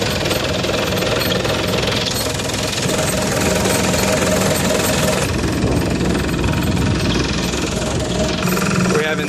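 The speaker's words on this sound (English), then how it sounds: "The engine starts up and runs good." A 2002 Hitachi EX160 LC-5 excavator engine runs steadily with a rough, rattling diesel clatter, loud and close, continuous throughout.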